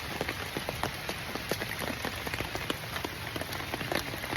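Steady rain patters across surfaces during the rainy season around a cacao seedling nursery, a dense, even hiss with scattered sharper drops, fairly soft and continuous with no voices.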